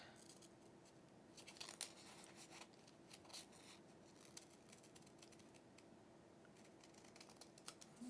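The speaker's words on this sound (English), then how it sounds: "you're just going to take your scissors and you're going to cut" Scissors snip through paper along the outer edge of a Star of David Chrismon snowflake, giving a quiet series of crisp cuts and rustles close by with no talking.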